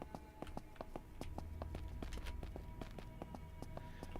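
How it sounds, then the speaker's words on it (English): A dog in a video game trots along, its paws tapping out a quick, steady rhythm of light footfalls over a low background hum, fairly close and unaccompanied by voices. "Listen to them footsteps."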